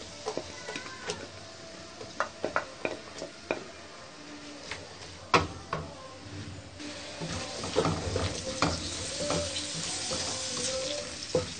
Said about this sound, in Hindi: अब हम इसमें प्याज ब्राउन करेंगे।